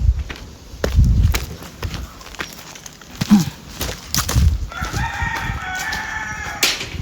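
A rooster crows amid the bustle of a free-range chicken farm, with footsteps and rustling nearby and a steady chirping texture rising in the latter half.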